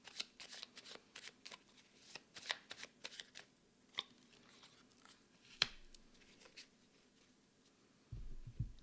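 Oracle cards shuffled by hand in a quiet room, a close series of crisp riffling bursts and card flicks in uneven rhythm, ending with a brief low thud.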